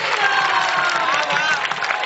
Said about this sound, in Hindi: ये बड़ी तालियां बजाए सब।